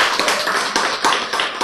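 Audience clapping during a lecture on genes and love, a short burst of scattered hand claps with a few sharper individual hits standing out, moderately close and without talk.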